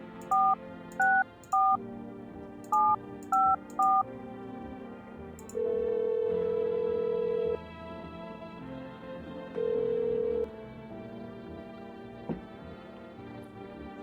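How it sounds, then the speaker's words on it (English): A telephone in the video game No, I'm Not a Human is dialed, giving a quick series of six short keypad tones, then two long steady ringing tones over soft background music. "Can I make phone calls, or does that waste energy?"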